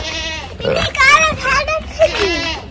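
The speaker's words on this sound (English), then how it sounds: "We gotta move cows. They're over here hollering and screaming." Cattle on a farm bellow and holler loudly in a close, overlapping series of calls, their voices rising and falling over a few seconds.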